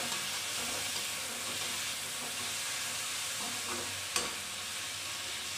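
Large chopped tomatoes fry in a pan and are stirred, a constant sizzle with soft scraping strokes and one sharp clink near the end.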